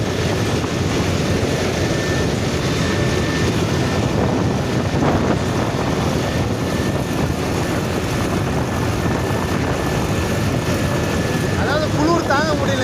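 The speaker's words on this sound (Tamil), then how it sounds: "நம்ம வண்டி ரன்னிங்கில் போயிட்டுருக்கு" A harvester vehicle drives along the Vijayawada road, its engine giving a loud, steady, unbroken drone with heavy wind rumble for the whole stretch.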